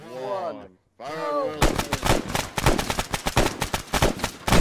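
Rapid bursts of gunfire in the military shooter game Arma 3, dense and loud, following a short voiced countdown.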